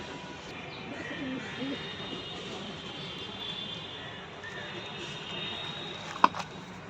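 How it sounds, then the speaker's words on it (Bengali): An adult pigeon coos softly within a flock of white and black pigeons, making low, faint cooing under quiet background noise. A sharp tap sounds near the end. "এটা ধাড়ি পায়রা।"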